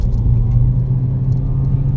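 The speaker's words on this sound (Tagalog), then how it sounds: "Rinig niyo yung ugong ng makina boss." A 2020 Toyota Vios engine with a rough idle and low power hums steadily at close range, a deep continuous low rumble with slight unevenness and no talking over it.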